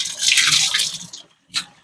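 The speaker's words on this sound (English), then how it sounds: "Yep, so this is where we fetch our drinking water." Water gushes and splashes at a village drinking water source, a loud bright rush that cuts off abruptly, followed by a brief final splash after a short silence.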